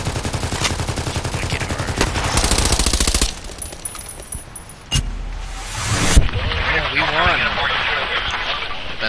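Rapid automatic gunfire from a weapon in the online shooter Contract Wars, loud bursts in the first few seconds followed by scattered shots and game effects, with a player talking over it.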